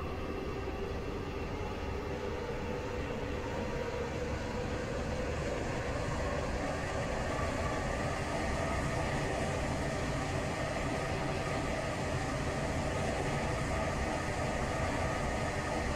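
A train in the Roblox game Stepford County Railway on a Stepford Connect service runs steadily with a continuous rumbling, hissing drone that holds level throughout, with no talk.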